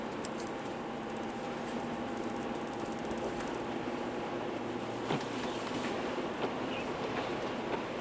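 A car drives along a new road through fields, a steady broadband interior rumble with faint ticks and a brief bump, no voices heard.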